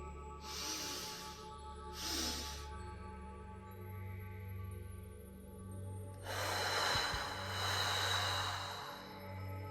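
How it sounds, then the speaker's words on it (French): Guided breathing exercise with two-part inhales and exhales: two short separated breaths drawn in, a pause, then a longer airy exhale, close and quiet with no talk. "Vous prenez une inspiration, vous vous arrêtez, une deuxième inspiration, vous vous arrêtez et ensuite vous soufflez en 2 temps."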